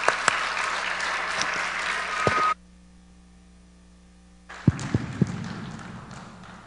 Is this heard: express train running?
no